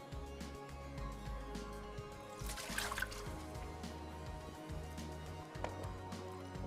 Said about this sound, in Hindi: ये पानी आप फेंकने देंगे कितना गंदा हो गया।